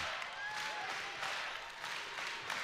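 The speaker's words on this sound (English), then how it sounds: "This crowd on its feet with a chant of UVM" Basketball crowd at a college game between Binghamton and Vermont, a broad steady roar of cheering and clapping that fills the arena without letting up, with no distinct chant standing out.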